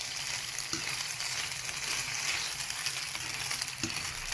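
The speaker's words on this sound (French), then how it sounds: "Donc on fait revenir les pâtes, le beurre et l'oignon." Pasta, butter and onion frying together in a pan, giving a steady broadband sizzle throughout with two brief knocks of stirring, close and fairly loud, with no talking.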